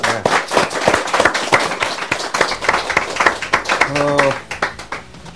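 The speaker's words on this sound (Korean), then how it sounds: "박사님께 박수 주십시오" Studio audience claps for a guest expert at the close of a Korean podcast talk session, a dense burst of applause with sharp individual claps, briefly overlapped by a voice before fading.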